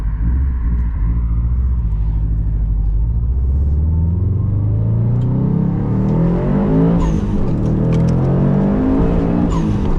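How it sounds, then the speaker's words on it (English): A Subaru WRX STI accelerates with a deep rumbling engine that climbs steadily in pitch as it pulls away, loud and close throughout. "I should be able to take this car for a little drive."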